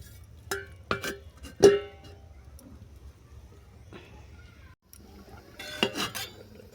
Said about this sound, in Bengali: এরপর দিয়ে দিচ্ছি বেগুন আবার নেড়ে ছেড়ে ডিশটা দশ মিনিটের জন্য ঢেকে দিচ্ছি